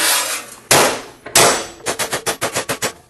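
Sheet metal for a miniature Willys CJ2A is hammered on an anvil, two loud ringing clangs followed by a quick run of about eight sharp metallic blows, close and forceful.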